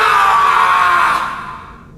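One person lets out a loud, sustained scream lasting about a second before it trails off, alone with no other voices.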